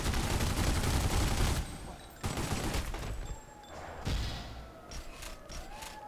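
Bursts of rapid gunfire and heavy thuds ring out in The Godfather: Don Edition during a bank robbery shootout, with several sharp volleys separated by short pauses and fading to lighter scattered sounds at the end.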